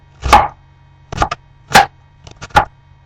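A knife chops an onion on a cutting board in five sharp, close strikes, some landing as quick doubled cuts, with quiet pauses between.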